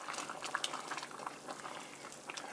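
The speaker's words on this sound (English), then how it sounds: "I put the lid on so it boils quicker. And it's boiling." Picadillo with vegetables in water boils in a lidded pan, giving a steady close bubbling and burbling hiss with small pops throughout, no talking.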